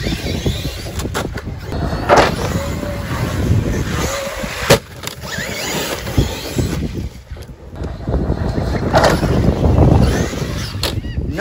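A stock Traxxas Maxx RC car drives hard outdoors, its motor whine rising and falling with sharp knocks and bangs from jumps and impacts, with wind rumble across the microphone.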